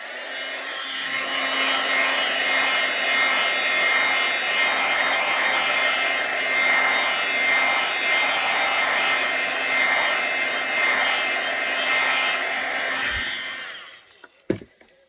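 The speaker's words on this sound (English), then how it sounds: "I'm going to hit this with the heat tool just to make sure that those little dots that I just did" A craft heat tool blows hot air over embossing on a Christmas card, giving a steady, loud whirring hiss for about thirteen seconds that stops abruptly, followed by a couple of soft knocks as it is set down.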